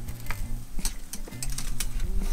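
Angus beef shoulder cut (posta paleta) sizzles on a hot grill, a close, steady crackling fry with scraping and metallic utensil clinks layered over a low hum.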